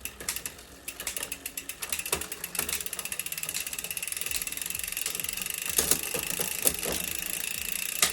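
A bicycle rear derailleur shifting through gears while the pedals turn slowly, a steady fast ratcheting tick from the freewheel with clicks and chain clatter at each shift, close and mechanical.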